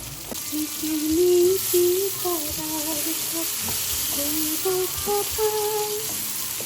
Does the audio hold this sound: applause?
no